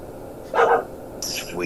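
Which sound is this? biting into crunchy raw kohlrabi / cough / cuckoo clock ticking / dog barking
dog barking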